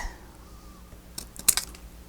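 A few quick snips of scissors cutting a paper envelope, faint and close, clustered near the end after a quiet start.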